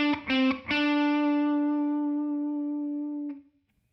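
Electric guitar playing a short improvised lick: three quick plucked notes in rapid succession, the last ringing out with a long sustained decay, then a faint touch before silence.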